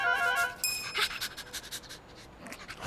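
A dog pants in quick, rhythmic breaths, close by, after a brief tonal chime at the start; no one speaks.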